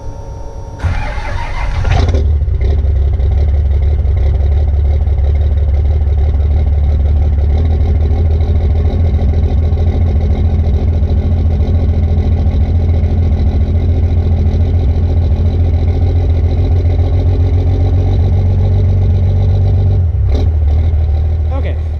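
A Cummins diesel engine in a 1994–2002 Dodge truck cranks over with a brief burst, then catches and settles into a steady, loud, low rumbling idle that runs uninterrupted for about twenty seconds.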